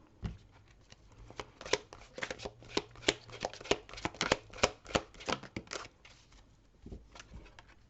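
A deck of oracle cards being cut and shuffled, a rapid run of crisp riffling slaps and flicks close by, bunched in quick bursts with short pauses and no voice.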